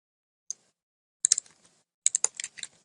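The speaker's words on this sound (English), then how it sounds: "All I'm doing here is I'm typing in the names and I'm pasting that little button back into the box." Bursts of rapid clicking keystrokes on a computer keyboard, an isolated tap followed by two quick clusters of typing, close and quiet in an otherwise silent room.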